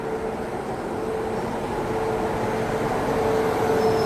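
A Bhagalpur Garib Rath Express train heard from a railway station platform on a Delhi to Guwahati journey, giving a constant dense rumble and hum with a faint high whine and no talking.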